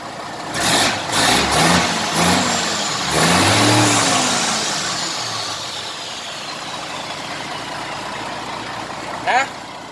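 A Toyota Super Grace van's engine, recovering from a no-start fault, revs in several rising surges as the throttle is blipped, then settles to a steady idle hum, close by with voices talking over it.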